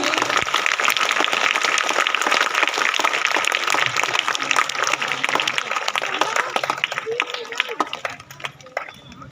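An audience applauds at a school Independence Day celebration, with dense, sustained clapping from a crowd for several seconds that thins out near the end while voices carry underneath.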